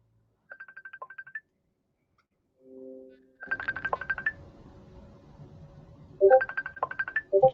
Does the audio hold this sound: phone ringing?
yes